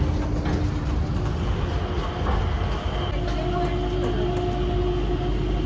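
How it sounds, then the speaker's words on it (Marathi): Inside Changi Airport in Singapore, an automated inter-terminal metro train runs between terminals with a steady, continuous rumble and rail noise, fairly close and even throughout. "इथल्या आतल्या मेट्रो चालते."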